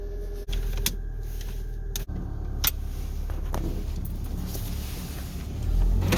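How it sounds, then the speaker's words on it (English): Car engine warming up at idle, a steady low rumble with a couple of sharp clicks and a faint rise in engine note near the end. "I'm gonna let my car warm up"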